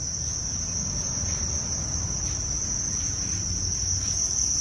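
Thai crickets in a breeding tray chirp in a steady, dense, high-pitched trill that runs unbroken and fairly loud throughout, with no voices.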